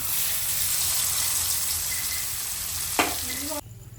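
Sardines frying in oil, a loud continuous sizzle with a brief clatter near the end before it suddenly cuts off.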